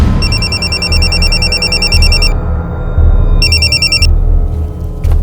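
A telephone rings loud and close in two electronic trilling bursts separated by a short pause, over a heavy, steady low background rumble.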